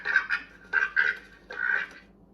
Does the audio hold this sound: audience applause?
no